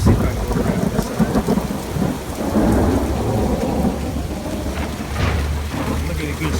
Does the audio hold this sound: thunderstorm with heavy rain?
yes